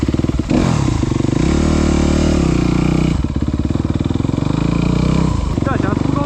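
A new motorcycle with stiff suspension ridden at close range, its engine pulsing in a steady throb that rises and falls as the throttle shifts, with a few brief dips under constant wind noise and a voice talking briefly.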